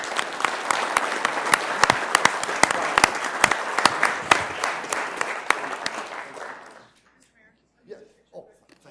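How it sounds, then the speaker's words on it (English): Applause at a Sioux Falls city council meeting: a dense burst of clapping from the room with a few sharp nearby claps standing out, fading away after about seven seconds, followed by faint scattered sounds. "Let's give them a rousing round of applause."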